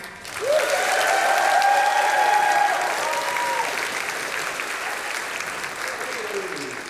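A conference audience at ShipItCon 2025 bursts into loud, sustained applause with some cheering and whistles as the final speakers are welcomed, the clapping easing slightly toward the end.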